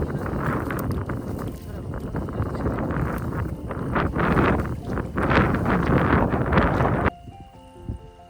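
Heavy wind buffets the microphone in a continuous low rumble for several seconds at a lakeside camp on Tödürge Lake, Sivas, then cuts off abruptly, leaving quieter sound with faint tones.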